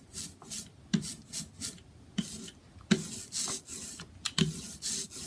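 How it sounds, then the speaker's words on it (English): Brayer rolling printing ink out for a snowflake print, heard close and quiet: a series of rhythmic, tacky rasping strokes with short pauses between them, each pass a sticky, crackling rub. "you can use your brayer and roll this ink out. It'll start to make that sticky sound."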